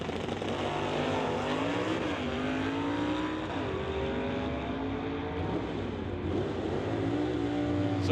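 Super Shifter drag race cars on a quarter-mile strip accelerate hard and manually shift through the gears, loud sustained engine roar with rising and dropping pitch at each shift, heard from trackside without talk.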